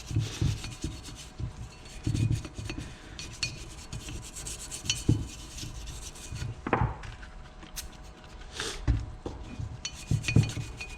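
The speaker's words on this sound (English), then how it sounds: "Just gonna use a toothbrush." A toothbrush scrubs engine cylinder parts from a Honda TRX 450ER quad, giving close, irregular bursts of bristly rubbing and scraping with short pauses and a few light clinks between strokes.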